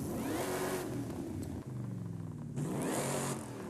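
Toyota Tundra pickup truck in Forza Horizon 5 revving hard with an upgraded exhaust, engine climbing and dipping through repeated loud throttle sweeps, close and alone with no talk.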